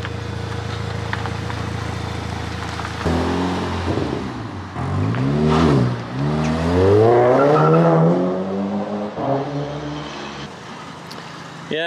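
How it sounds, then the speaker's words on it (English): A Ford Fiesta ST engine idles, then revs up with rising and falling pitch as the car pulls away, loud and close, ending in a sustained high rev. "give us a rev as you go"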